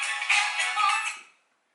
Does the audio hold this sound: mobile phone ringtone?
yes